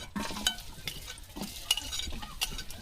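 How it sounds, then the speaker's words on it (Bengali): Chopped onion fries in soybean oil, with scraping, stirring strokes over a soft sizzle that comes in short bursts, fairly quiet and without speech. "আমি সয়াবিন তেল দিয়ে দিচ্ছি তারপরে দিয়ে দিব পেঁয়াজ কুচি"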